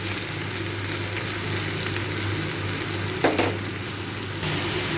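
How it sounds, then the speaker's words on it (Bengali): Bottle gourd sautéing in a hot pan gives a steady, close sizzle with a brief stir or scrape partway through, and no voices. "লাউগুলোকেও আমি একটু ভালো করে কষিয়ে নেব।"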